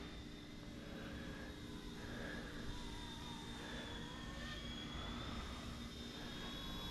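A small ready-to-fly remote control helicopter hovers nearby, giving a steady, high whining motor and rotor hum that holds an even level throughout with no talk.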